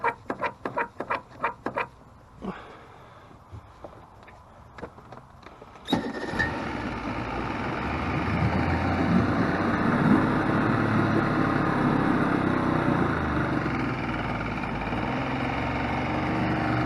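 A bass boat's outboard motor under restoration, first tried out on the water, catches after a few sharp clicks and knocks, then settles into a steady, loud running drone that holds for the rest of the stretch.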